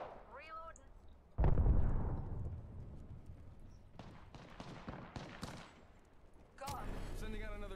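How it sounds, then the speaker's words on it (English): A grenade goes off in the video game Apex Legends, a sudden loud boom that rolls into a long rumbling tail amid scattered gunfire, with character voices talking before and after. "Look out! Grenade."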